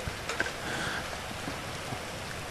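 Rain falls in the GTA 5 Online video game: a faint, steady patter and hiss of rainfall with a low background rumble, and no voices.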